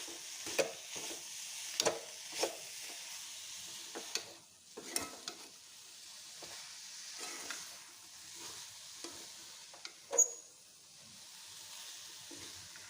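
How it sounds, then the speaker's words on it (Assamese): Grated coconut fries in a wok while a spatula scrapes and stirs it in irregular strokes, each scrape sharp against a soft, low sizzle, with no talking. "তাৰপিছত এইফালে নাৰিকল ভাজি আছোঁ।"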